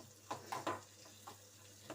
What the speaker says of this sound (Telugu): చూడండి ఎలా వేయిస్తున్నాను